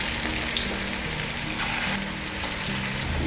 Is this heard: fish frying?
yes